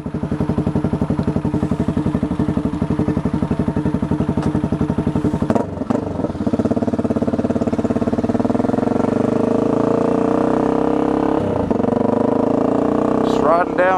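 A motorcycle fitted with hollow mufflers rides down a coastal road, its engine droning steadily and loud throughout, with a brief dip partway before the pulsing exhaust note returns and climbs.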